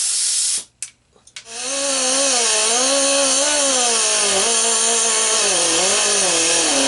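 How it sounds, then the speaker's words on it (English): A pneumatic air tool fed by a shop compressor starts after a brief gap and then runs loud and steady, its high whine wavering as the compressor struggles to keep pressure up. "Something we don't use very often anymore now that we have battery operated tools is air powered tools."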